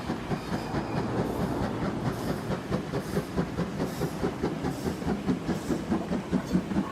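An OO gauge model Stanier 8F steam locomotive hauling a freight train of wagons runs steadily nearby, its wheels clicking in a quick, regular clickety-clack rhythm over a soft continuous hiss.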